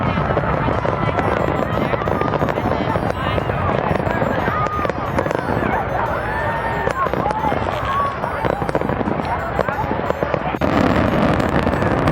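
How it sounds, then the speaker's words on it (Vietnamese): Georgian fireworks bursting at Marian Island: a dense, continuous barrage of loud crackling blasts and rising whistles, with rumbling low booms underneath throughout. "Pháo hoa Gruzi bắn tại Marian Island."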